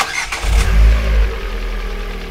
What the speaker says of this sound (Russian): так что запускаем двигатель.